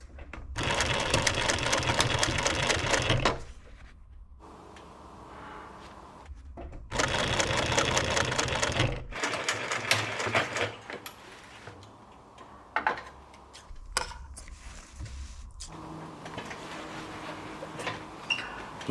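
A sewing machine stitches fabric for Porsche 991 GT3 RS seats in loud, close bursts of rapid mechanical whirring, with quieter handling noises in the pauses and no talking.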